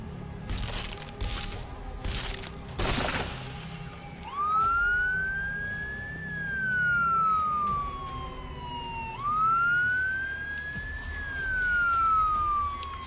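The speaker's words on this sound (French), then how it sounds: "La sirène, pardon." An electronic alarm siren in the video game The Walking Dead: Destinies wails in long rising and falling sweeps, loud and steady, after a few sharp clicks and bangs at the start.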